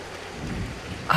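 Heavy rain falling, a dense steady hiss throughout with a sharper burst right at the end, and no voices.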